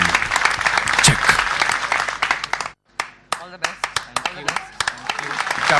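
A TV show audience breaks into loud, dense applause and clapping, then thins into scattered individual claps after a brief pause, with speech mixed in.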